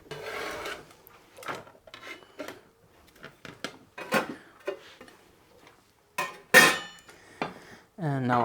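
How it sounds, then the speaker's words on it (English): A knife chops vegetable trimmings into small pieces on a board, with a series of irregular sharp taps and short scraping strokes, some louder than others, broken by brief pauses. "I'll just cut them into small pieces"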